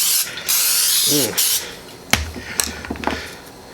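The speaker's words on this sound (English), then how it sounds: "remember to spray the can" A cooking spray can hisses in two bursts, close by, followed by a few clicks and knocks as it is handled, with a brief voice in between.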